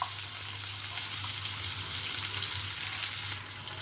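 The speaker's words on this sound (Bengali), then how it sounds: "রসুন কুচোনো, কাজু বাদাম দিয়ে হালকা করে একটু ভেজে নেব" Chopped garlic and cashew nuts frying lightly in a pan give a steady, bright, hissing sizzle throughout, close and even, with no voices.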